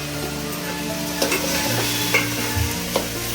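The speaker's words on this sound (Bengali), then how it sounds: "ভালো করে এবার এটাকে নাড়াচাড়া করছি" Gobindobhog rice being stirred in a hot cooking pot, with a steady close sizzle, scattered spoon scrapes and clinks against the pot, and a low hum underneath, no talking.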